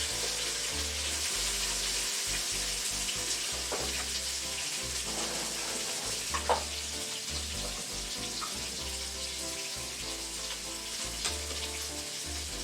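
Southern-style hamburger steaks sizzle and fry in a skillet with a steady, close, bright crackle, joined now and then by soft scraping and small pops, with no voices.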